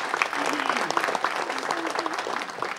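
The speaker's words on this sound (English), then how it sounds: "Give her a round of applause." Applause for a staff member at a council meeting: a room of people clapping steadily and fairly loudly throughout, with faint voices mixed underneath.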